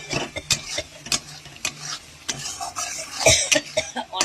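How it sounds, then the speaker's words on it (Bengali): An egg goes into frying masala in a pan, with scattered clatters of a spoon stirring against the pot and a soft sizzle between them, close and fairly loud. "ভালো করে কষিয়ে তার মধ্যে ডিমটা দিয়ে দিলাম।"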